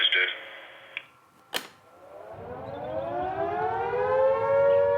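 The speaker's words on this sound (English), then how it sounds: "The sound is made by Second World War air raid sirens, and they're meant to be loud." A loud Second World War air raid siren, used as a fire alarm test at an animal park, winds up, its wailing tone rising steadily in pitch and volume after a few sharp clicks and a short tone.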